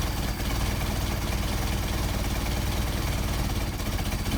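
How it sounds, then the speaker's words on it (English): A small engine idling steadily while its idle screw is set wrong, a continuous close rumble with a slightly uneven, faltering beat and no voices. "Alright, you can see here the idle degrade."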